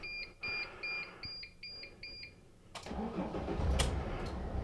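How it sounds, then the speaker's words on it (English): Several short electronic beeps sound in a row, then a camper van engine cranks and catches, settling into a steady idle. "Let me start the car."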